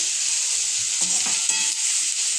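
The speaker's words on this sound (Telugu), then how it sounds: "ఇలా వేయించుకోవాలి. బాగా రెడ్డిష్గా రావాలి. పచ్చిగా వేయకూడదు ఆలుని." Potatoes frying in oil for a potato curry make a steady, close hissing sizzle, with a couple of faint light knocks and no talk.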